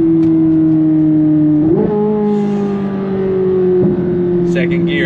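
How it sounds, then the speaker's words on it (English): A car engine pulls hard under throttle, its steady drone climbing in pitch, dipping briefly around two seconds as a gear change comes in, then pulling on strongly and close up to the end. "the engine revs so fast"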